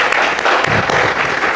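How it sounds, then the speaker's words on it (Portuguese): A church congregation at a Portuguese-language worship service bursts into dense, loud applause, a steady wash of clapping filling the room. "Para o Senhor Jesus, uma linda salva de palmas."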